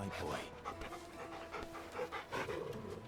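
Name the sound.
dog panting in video game Final Fantasy XVI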